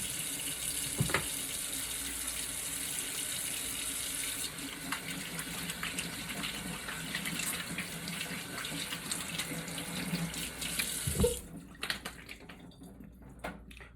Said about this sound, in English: Now I can wash my hands real quick.